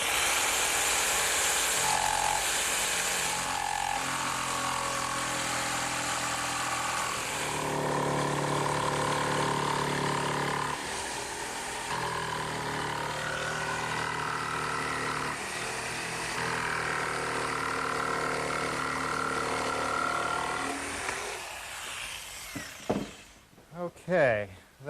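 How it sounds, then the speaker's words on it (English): Portable jigsaw cutting wood for a gardener's workbench, a continuous buzzing motor with rapid blade chatter running for over twenty seconds, stopping near the end. "And now to cut it, I'm just going to use my portable jigsaw."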